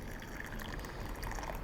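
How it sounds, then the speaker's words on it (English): Water is poured into a kyusu teapot to warm it, a soft continuous trickling and filling sound, fairly quiet and close, with no talking over it. "I'm going to warm this kyusu and throw the water out"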